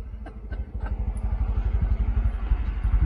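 A Ford Mustang II engine running steadily close by, a low pulsing rumble with a regular throbbing beat and faint mechanical clatter on top, holding even throughout.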